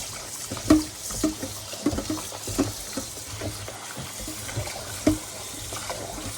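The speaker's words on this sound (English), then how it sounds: "Rinse off the turkey neck." Tap water runs steadily into a kitchen sink while a turkey neck is rinsed under it, with irregular splashes and clunks of handling breaking through the continuous rushing stream.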